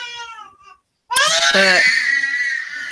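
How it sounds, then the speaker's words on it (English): A woman screaming loudly from another room during labor, a sudden piercing high-pitched wail that cuts in after a quiet pause with a brief voice, sustained and harsh with strained harmonics. "That's one of our cousins in there screaming right now."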